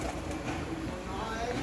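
Red-eyed jonsarya pigeons cooing softly among steady background noise, with someone talking over them.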